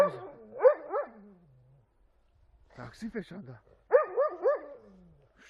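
A dog gives short, yelping barks and whines on command outdoors in snow, in two bursts separated by a pause, with a person's voice speaking between them.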